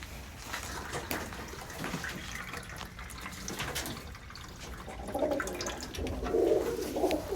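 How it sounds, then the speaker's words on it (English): Water is poured into closed pigeon cages in a barn, a steady trickle and splash rising louder toward the end, with pigeons cooing softly around it. "Next, we water the individual pigeon cages that are closed."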